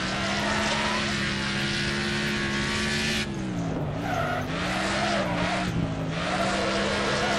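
Wreckfest race car drifting with full differential lock on both wheels: a loud, continuous engine roar with sustained tire squeal and skidding, the pitch wavering as the car slides, under faint voices.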